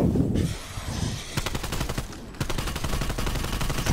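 Rapid automatic gunfire in Call of Duty Cold War Zombies, aimed at a jetpack-equipped enemy, rattling in dense sustained bursts with a brief pause before the firing resumes, loud and close throughout.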